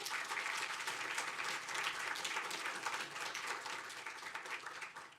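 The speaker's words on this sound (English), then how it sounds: "So I want to give them one more round of applause." A large audience at a nanotechnology competition gives one more round of applause to the graduate student volunteers in science and engineering, dense, even clapping that fills the room for about five seconds before tapering slightly.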